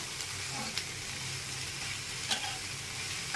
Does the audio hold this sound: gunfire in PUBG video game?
no